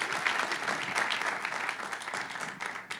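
A church congregation applauding together: steady, dense clapping from many hands fills the room throughout, with faint voices mixed in underneath.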